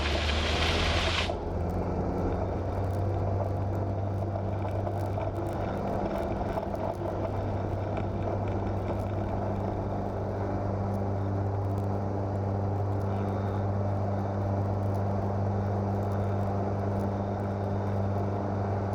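Light airplane engine held at takeoff power during a touch-and-go, a loud steady propeller drone with constant low tones that runs on without letup, heard close from inside the cabin with no speech.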